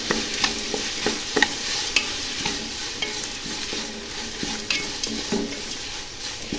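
Vegetable biryani is stirred in a frying pan, with a spoon scraping and clinking repeatedly against the pan over a continuous sizzle, close and clear.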